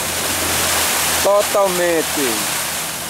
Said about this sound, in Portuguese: Veja o desperdício de água